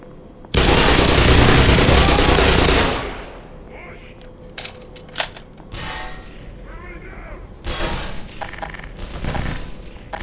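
A couple of grenades go off in the video game Black Mesa, a long loud blast of noise followed by scattered gunfire bursts and debris clatter, with someone talking at times.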